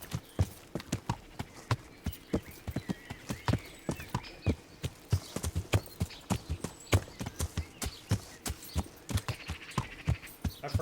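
A horse in the video game Kingdom Come: Deliverance walks along a route, its hooves clip-clopping in a steady, close, even rhythm for the whole stretch with no talk.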